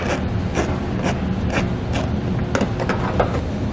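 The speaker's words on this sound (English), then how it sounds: "We'll remove this with the 7mm socket." A 7mm socket on a ratchet loosens a bolt while a tow base plate kit is being fitted to a vehicle, a close run of evenly spaced metallic clicks that quickens toward the end.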